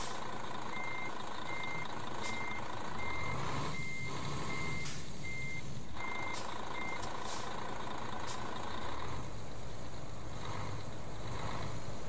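A KAMAZ 5490 truck in Euro Truck Simulator 2 reversing, its backup alarm beeping in a steady, evenly spaced series over a constant diesel engine drone, with a few brief hisses.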